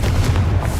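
A Confringo blasting spell bursts in Hogwarts Legacy, a loud, dense low boom that fills the short moment with rumbling impact and no pause.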